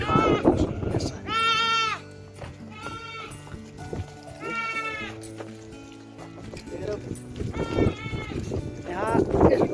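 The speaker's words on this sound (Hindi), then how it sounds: "यहाँ इस बकरी को यहाँ आरती बोलते हैं।" Goat and small kid bleating in Saudi Arabia on a stormy, cloudy day, repeated loud wavering bleats close by over wind noise, with someone talking between them.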